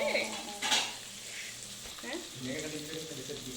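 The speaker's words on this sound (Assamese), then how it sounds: "পিঁয়াজ পূৰা ধুনীয়াকৈ ভাজি আছে, গল্ডেন ব্ৰাউন হ'ব লাগিব।" Onions fry in oil in a pan for a home birthday meal, giving a soft, close sizzle punctuated by clinks and scrapes of a utensil against the pan, with faint voices in the background.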